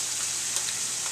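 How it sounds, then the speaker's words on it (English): Lobster pieces sauté in a pan with a soft, even sizzle that holds steady throughout, heard close and quietly without any voices. "You saute the lobsters pieces for about a minute, like this"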